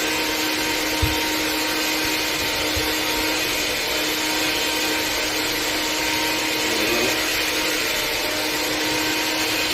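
Electric mixer whirring continuously through sugar cookie dough, a loud steady motor drone with a couple of faint knocks, no voices.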